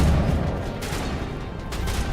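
Cannon fire from an enemy's weapon in the Mass Effect Legendary Edition game, a loud sustained barrage of booming shots that fills the whole short stretch.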